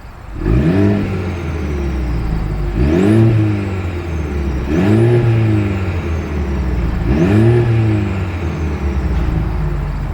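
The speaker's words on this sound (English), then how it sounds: "here is that exhaust clip" A 2026 Mercedes-Benz GLC 300 SUV engine revs repeatedly, four or five rising bursts that fall back to a deep idle rumble, close to the exhaust.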